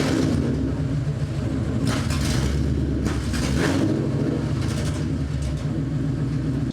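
1968 Ford F100 pickup with a swapped Coyote V8 revving hard in a burnout attempt, loud continuous engine roar with rising revs and surges, close by.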